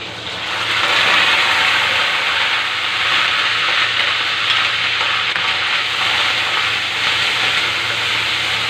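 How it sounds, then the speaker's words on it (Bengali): Chopped onions hit hot oil for a pumpkin and potato kofta, giving a loud, continuous close sizzle and crackle that holds steady throughout. "অয়েল গরম হওয়ার পর দিয়ে নেব পেলে রাখা পেঁয়াজ।"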